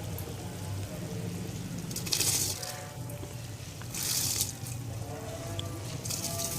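Two short rushing pours of rice hitting water stand out over a steady low bubbling boil, for a mixed vegetable pulao.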